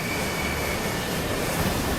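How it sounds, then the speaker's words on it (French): A loud, constant roar of an airplane engine in a nosedive, with a thin steady whine on top, unbroken throughout. "L'avion est en piqué, file droit vers l'océan!"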